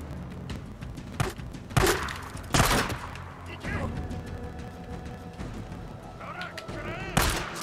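Grenade blasts and gunfire in the video game Days Gone, a series of sharp booming bursts and crackling shots mixed with in-game sounds, with a player's voice talking over it.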